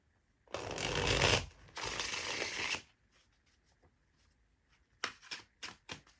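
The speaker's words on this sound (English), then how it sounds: "let's shuffle the cards," Tarot cards are riffled and shuffled in two long crisp bursts, then a few short quick flicks after a pause, close and alone.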